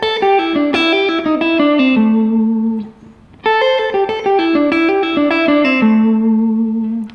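A distorted electric guitar plays a hybrid-picked pentatonic lick. Quick, ringing notes fall in two similar descending phrases separated by a brief pause, loud and close, with effects coloring the tone.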